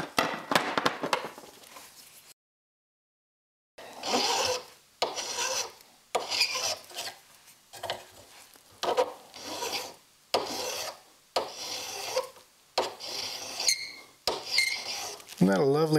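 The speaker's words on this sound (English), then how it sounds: "I'm going to freshen up the ends with a file" A hand file rasps repeatedly across the ends of a metal bezel ring in short back-and-forth strokes after a brief pause, close and gritty, with a little speech at the start.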